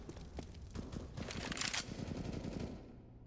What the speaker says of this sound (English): you're hearing like a spray of the FAMAS out of Alman